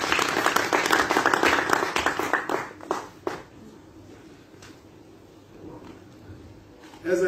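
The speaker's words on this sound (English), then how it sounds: "May you all give yourselves a round of applause." Audience at a golf sponsorship launch in Nkonyeni clapping loudly, a strong burst of applause in the first three seconds that quickly thins out and dies away into quiet room tone, with a voice starting at the end.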